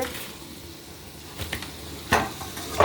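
Bottle gourd cooking in a pan as lau ghonto, with a soft continuous sizzle and a few sharper stirring and utensil scrapes toward the end.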